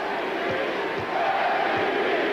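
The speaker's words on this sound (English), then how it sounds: "MVP is the chant from the crowd here as Scottie hits the second free throw." Basketball arena crowd during a 1994 NBA playoff game, Cavaliers versus Bulls, chanting MVP for Scottie Pippen of the Chicago Bulls at the free-throw line; a dense, sustained roar of many voices fills the space with a few low thumps beneath.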